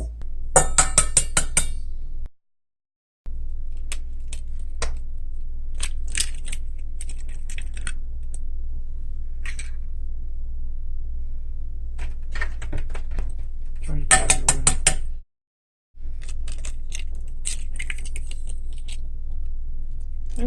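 Large, tough-shelled eggs are cracked in a kitchen while making chaffles, giving sharp, crisp clicks and taps in several clustered bursts, with short silent breaks between them.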